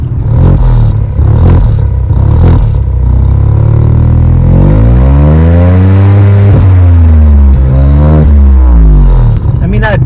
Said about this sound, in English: the exhaust sounds pretty good as well.